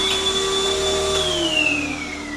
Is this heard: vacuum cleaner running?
yes